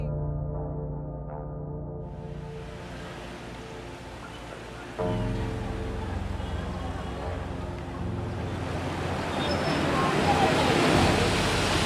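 Heavy rainfall and flowing water in Tanzania: a broad hiss and roar that grows louder and denser toward the end, with a low, tonal drone underneath at the start.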